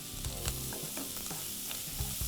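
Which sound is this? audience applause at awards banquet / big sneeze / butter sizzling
butter sizzling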